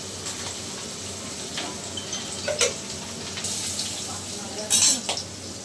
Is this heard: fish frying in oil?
yes